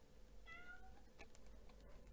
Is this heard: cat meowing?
yes